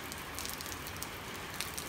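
Steady rain falls at dawn in San Miguel, a soft, continuous broadband hiss with faint scattered patter, even in level throughout and with no voices.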